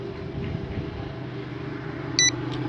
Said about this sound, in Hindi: ये आपके सामने बीप बीप की आवाज़ दे रहा है लेकिन पंखा जो है वो स्टार्ट नहीं होता।